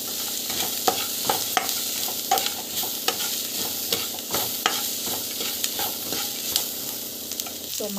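Sautéing in a pan with asafoetida and salt while making mango rice, a steady loud sizzle with the rhythmic scrape and clatter of a spoon stirring throughout, no talking.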